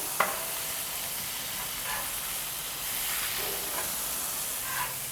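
Beef burgers sizzle steadily on a grill just after being flipped, a constant close frying hiss with a few small pops and brief clicks on top, no talking.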